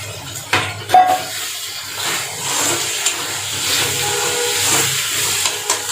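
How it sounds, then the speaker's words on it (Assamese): Soaked lentils fry in a pan with a steady, close hissing sizzle, broken by a few light clinks of a utensil against the pan near the start. "দালিখিনি যিহেতুকে ভিজাই থৈছোঁ, ভাজোঁতেনে সোনকালে সিজি যাব।"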